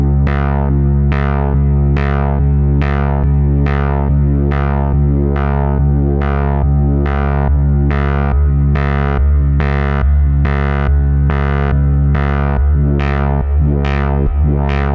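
Erica Synths Black Joystick 2 modulation shaping a simple modular synth voice through a filter, a loud sustained distorted tone pulsing in a steady repeating rhythm as the LFO shape slowly morphs, heard alone.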